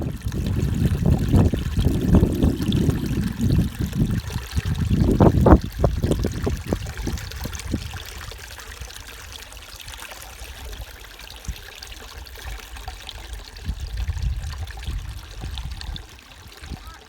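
Water trickles and gurgles along the edge of a salt marsh creek in early spring, loud and bubbling at first, then quieter and thinner, with soft splashes mixed in.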